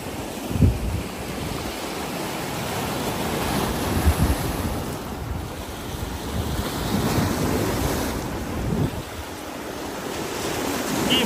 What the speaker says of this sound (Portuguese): E o mar é revolto, viu?